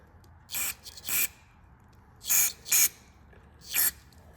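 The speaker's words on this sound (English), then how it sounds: "And just spray everything." Five short, sharp hissing bursts from an aerosol can of carburetor cleaner sprayed on a Craftsman 179cc snowblower carburetor, in uneven pairs and singles, with quiet pauses between them.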